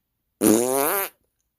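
A single drawn-out fart sound effect, loud and close, a buzzy rippling blast lasting under a second before cutting off into silence.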